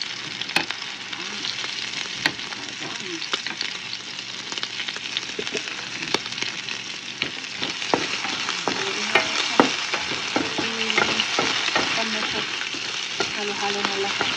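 Garlic and onions sizzle and crackle steadily in hot oil as they are stirred and sautéed for Ilocano igado, with scraping utensil clicks over a continuous frying hiss.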